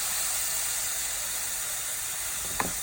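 Shawarma-marinated chicken pieces sizzling on a hot oiled tray, a steady bright hiss running throughout with one brief sharper crackle near the end; no one speaks.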